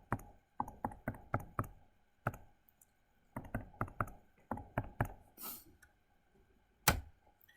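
Keys tapped on a calculator while working a physics forces problem: quick close clicks in bursts and irregular runs with short pauses, no talk.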